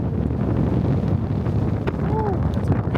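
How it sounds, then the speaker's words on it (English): Strong wind gusts buffet a sailboat on passage toward Zihuatanejo, a continuous rushing roar against the microphone with water wash beneath and a voice speaking over it. "these are some fucking gusts"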